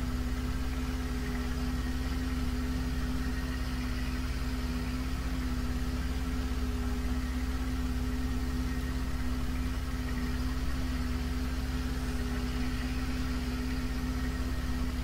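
A steady, low tractor engine idle in Farming Simulator 2013 drones on without change, a constant mechanical hum with a faint buzzing tone, no voices.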